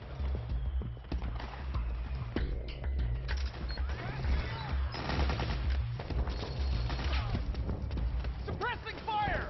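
Rapid machine-gun and rifle fire from a video game battle, bursts rattling steadily over a low rumbling bed, with voices calling out over the shooting.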